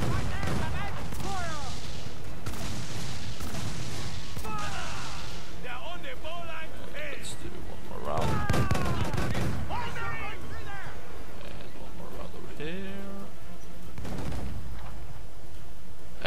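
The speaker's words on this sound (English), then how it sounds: "Do you have a rear cannon?" Heavy booming cannon fire from a man-o'-war sailing ship in Assassin's Creed 4: Black Flag, repeated blasts rolling under steady game music and effects while a person talks over the action.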